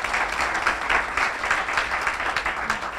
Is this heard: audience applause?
yes